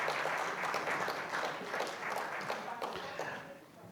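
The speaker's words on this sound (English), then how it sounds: "Let's have a round of applause for Yurdi for a great round of moderation." Applause from a forum audience at a high-level interregional conference on the OCOP model, a steady broadband wash of many hands clapping throughout, moderately loud with some diffuse talk mixed in.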